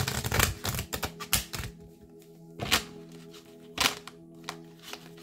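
Tarot cards being reshuffled by hand, a series of quick riffling and tapping bursts with short pauses between, close and fairly quiet.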